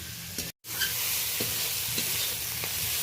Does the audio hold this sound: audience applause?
no